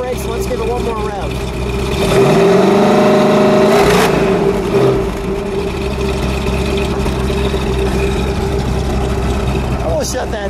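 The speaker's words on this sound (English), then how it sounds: "Let's take a foot off the brakes and let's give it one more rev." A 1970 Plymouth Cuda's cold 426 Hemi V8 idles close by, then surges briefly in a single rev before settling back to its steady idle.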